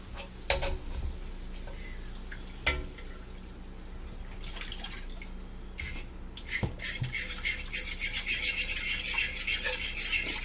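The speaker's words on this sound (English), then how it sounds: "We're just going to stir this" Bacon pasta mixture with garlic being stirred in a pan, scattered utensil scrapes and clicks early, then a denser rhythmic swishing and sizzle building in the last few seconds.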